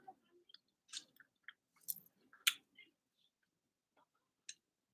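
Close-up chewing of steamed chicken, with irregular moist clicks, crunches and mouth sounds in sparse bursts separated by near silence.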